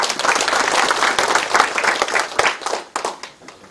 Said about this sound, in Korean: 김하신 위원장님, 임진모 의원님, 박준하 의원님께도 힘찬 박수 부탁드리겠습니다.